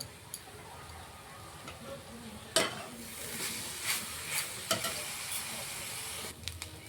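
Grated coconut with crushed cardamom is stirred and dry-cooked in a pan for patishapta pitha, giving faint, intermittent scraping strokes and soft sizzling over a quiet background.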